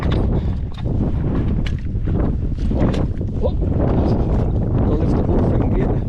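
Wind buffets a microphone on an open hillside beside a field gate, a steady loud roar with gusting surges throughout and no talk.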